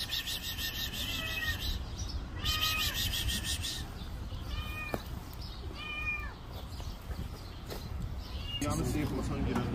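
A cat trapped down a manhole in the Narimanov area meows several times, distinct cries echoing from below amid a noisy street, with people talking nearby.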